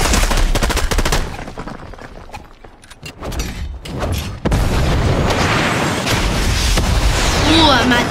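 Turret gunfire in Fortnite, loud bursts of rapid shots and booms that thin out briefly before heavy firing returns amid game noise.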